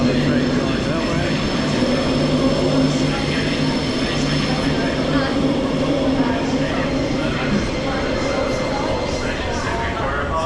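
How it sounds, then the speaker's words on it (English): A train at Perth train station rumbles steadily and loudly nearby, with a continuous mechanical roar and hum, and crowd noise in the background. "You can see another train going that way."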